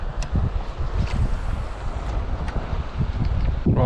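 Gusty wind roars across the microphone while fishing in shallow coastal water, a continuous low rumble with bursts of buffeting and no talk.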